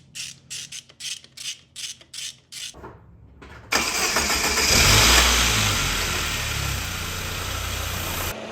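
Saab 900 engine, just back together after a valve cover gasket job, cranks with about eight rhythmic starter whirs, pauses, then fires and catches into a loud, close rev before settling to a steady idle.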